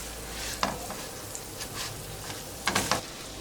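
A spoon stirs margarine and brown sugar melting in a saucepan, giving a soft steady sizzle with a few scraping strokes standing out near the start and end.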